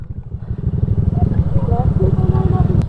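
A Honda Click scooter-style motorcycle straining up a steep road in traffic: a loud, close, rapid engine chug that continues throughout, with a voice mixed in over it.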